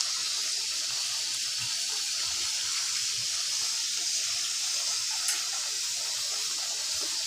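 Water poured into a pan of kofta with tomato sauce for a vegetable tagine, a steady soft hiss of flowing liquid, continuous and close, with no talk over it.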